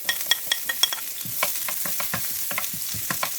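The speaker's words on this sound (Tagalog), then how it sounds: "Kapag mainit na, ilagay muna natin ang sibuyas." Onions sizzling in hot cooking oil in a pan, a continuous close crackle with frequent short bursts of spattering and stirring that come more often midway, with no voices.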